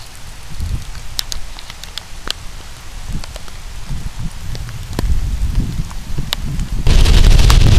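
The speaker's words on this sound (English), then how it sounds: "the rain is starting to fall" Rain beginning to fall outdoors on dry ground, scattered close taps of drops that thicken into a steadier patter and then a louder shower near the end.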